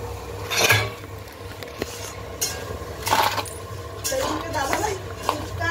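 Boiled potatoes being mashed by hand for fuchka filling in a home kitchen, giving soft squelching and intermittent utensil clinks and scrapes against a bowl, with people talking nearby.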